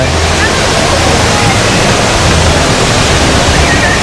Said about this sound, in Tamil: இந்த இடத்துல தண்ணி கொட்டுறது அவ்வளோ நல்லா பண்ணியிருக்காங்க